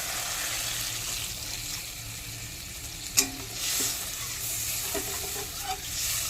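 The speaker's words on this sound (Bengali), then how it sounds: "লাউয়ের থেকে যে এক্সট্রা জলটা আমি ছেঁকে রেখেছিলাম এই জলটা দিয়ে দেব।" Strained bottle gourd water poured into a hot cooking pan hisses and sizzles steadily, with a few sharp clinks and splashes as the liquid hits the pan and is stirred.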